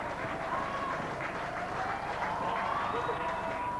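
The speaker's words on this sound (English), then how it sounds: "as the crowd applaud" Crowd at a 1996 rugby league match between Rochdale Hornets and Keighley applauding in an outdoor stadium, a steady, dense wash of distant clapping and crowd noise lasting throughout.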